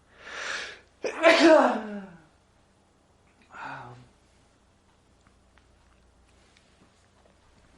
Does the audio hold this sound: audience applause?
no